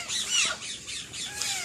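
Zoo birds squawk loudly in a string of harsh, shrill calls, several overlapping cries in quick succession with no talking.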